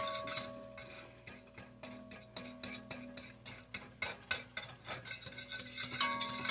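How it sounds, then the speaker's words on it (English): A spoon stirs a roux with a crushed beef bouillon cube in a pan for chuck roast, giving rapid repeated scraping strokes with light clinks and a faint sizzle, close and steady, without talk. "I'm going to stir it around in here a little bit."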